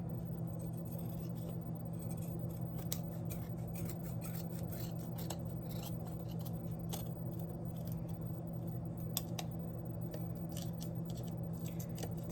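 Scissors snip away loose strings on Dollar Tree fall decor, a quiet run of many rapid, crisp cuts and rasps with no talking.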